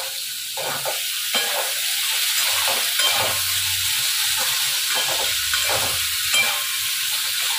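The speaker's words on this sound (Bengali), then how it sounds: "চলুন ততক্ষণে আলুটা ভাজা হোক একটু লাল করে।" Potato pieces fry in a pan for aloo posto, giving a steady sizzle with intermittent scraping and stirring clatters, close and fairly loud, with no talking.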